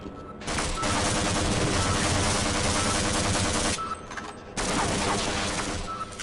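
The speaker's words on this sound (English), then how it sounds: "Oh, that's a turret." Turret gunfire in Half-Life, a loud continuous rapid burst lasting about three seconds, a brief pause, then a second sustained burst of fast automatic shots.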